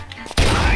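Point-blank gunshot from a heavy enemy in the video game Guns, Gore and Cannoli: one sudden loud blast after a quiet lead-in, followed by a dense, sustained rumble of gunfire.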